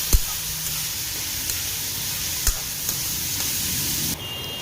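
Tomato tossed into a hot pan with capsicum for a Karnataka-style avalakki (beaten rice) oggarane, giving a steady low sizzle with a few sharp clicks and taps, fairly quiet and with nobody talking.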